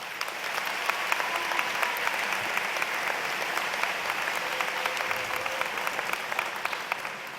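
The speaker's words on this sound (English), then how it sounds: "Please applaud our honored guests." A high school graduation audience applauds honored guests, with steady, dense clapping throughout and a few sharper individual claps standing out.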